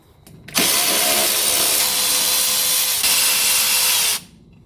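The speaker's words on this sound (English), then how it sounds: "These electric tools, guys, are amazing." An electric power tool runs steadily for about four seconds, driving 13mm spring perch bolts on a 1985 Mercedes 300SD, loud and close with an abrupt start and stop and no talk.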